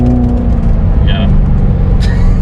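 A 2016 Chevrolet Corvette C7 Z06 drones loudly with a steady low engine rumble while driving through a residential area, the note shifting as it downshifts, with people talking over it from inside the car.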